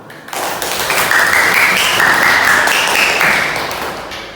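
A class in an equivalency-program economics lesson claps, the sound rising quickly, holding dense and steady, then tapering off, with a tonal electronic-sounding element running through the middle.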